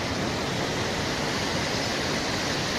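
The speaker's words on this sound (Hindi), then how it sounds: "तो पीछे आपको दिख रहा है वाटरफॉल, क्या ही शानदार लग रहा है।" Steady, loud roar of a mountain waterfall on the Valley of Flowers trek in Uttarakhand, near Joshimath, a continuous broadband rush of falling water filling the whole clip with no voices.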